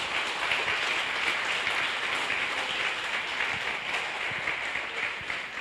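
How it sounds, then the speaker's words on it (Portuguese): A church congregation breaks into loud, steady applause during a worship service, a dense continuous wash of many hands clapping that stays even throughout with no talk over it. "Uma salva de palmas ao Senhor."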